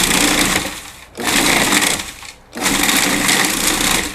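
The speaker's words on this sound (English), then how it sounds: "I'm basically grinding it up." An electric grinder powders dried calendula in three loud, close bursts of steady whirring, separated by brief pauses, with no voices.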